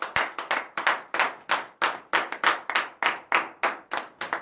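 Congregation at a morning prayer service clapping hands in a steady, fairly fast rhythm, many hands striking together loud and close, with no voices over it.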